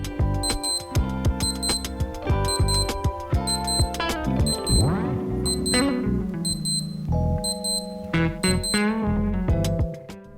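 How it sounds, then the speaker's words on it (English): A Casio LF-20W digital watch alarm beeps in rapid repeated bursts of bright electronic tones, loud and close, with a brief mechanical rattle partway through and no talk. "The alarm sound that you get does seem to be louder than in some other Casios"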